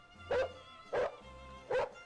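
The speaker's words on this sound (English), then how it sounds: "Suddenly, we heard the barking of one of the dogs." Three sharp barks from a Jack Russell Terrier in the Victorian London park of the video game London Detective Mysteria, evenly spaced about a second apart, clear and fairly close over a low hum of background music.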